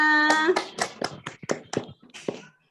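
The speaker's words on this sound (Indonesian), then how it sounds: "Tepuk tangan untuk kita semuanya." A school class claps hands in a patterned rhythm of quick bursts with short pauses. A voice opens the passage, the claps are close and clear, and it stops abruptly into silence.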